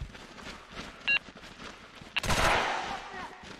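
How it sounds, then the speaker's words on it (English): Gunfire in the Socom Confrontation PS3 game's Kasbah Extraction map, a short burst of shots followed by a louder, sustained volley of fire that dominates the second half, over a steady background of game ambience. "They're shooting."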